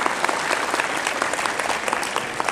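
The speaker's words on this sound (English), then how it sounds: "Can you clap for them" An audience at an Islamic lecture breaks into steady applause, a dense stretch of clapping that stays loud and continuous throughout with no talk over it.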